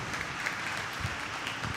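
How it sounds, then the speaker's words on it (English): Audience applause at an inter-school debate meet, a steady faint wash of many hands clapping at a distance, continuous throughout. "I would request all of you to join me in raising a round of applause for Arav Mida"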